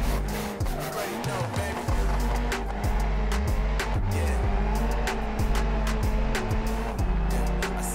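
A car drifting in the driving game BeamNG Drive: a loud, continuous engine roar that rises and falls with revs, with squealing tires sliding throughout and no voices.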